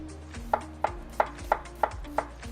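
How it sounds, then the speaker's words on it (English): A knife chops through an onion on a cutting board at a 45-degree angle, giving seven sharp, evenly spaced thuds about every third of a second, close and loud with no talking. "Going to keep chopping, but again, just going to go 45-degree angle."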